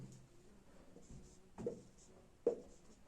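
A pen or marker writes physics equations on a board during a ray optics lesson, giving a few soft strokes and two sharper taps against a quiet background.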